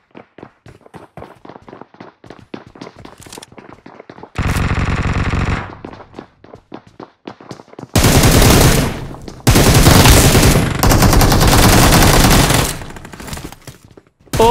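Gunfire in the PUBG Mobile game, starting with a quick rattle of light shots, then loud sustained bursts of automatic fire with short pauses between, close and dominant throughout.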